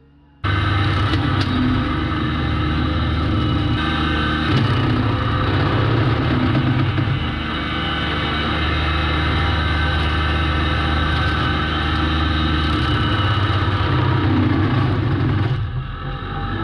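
A John Deere 755 compact tractor runs a Wapa Chapa chipper cutting small 1 to 2 inch trees on a homestead, a loud, steady mechanical drone that starts abruptly and holds without a break before easing slightly at the end.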